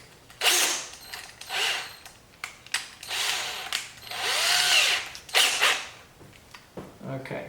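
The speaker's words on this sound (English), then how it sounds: "We can go ahead and we can do this with my drill." A power drill whirs in several short bursts, pausing between each as screws are driven in while fitting a front splitter and canards to a C8 Corvette, close and fairly loud.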